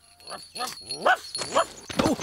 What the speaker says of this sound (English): I've never heard him bark before.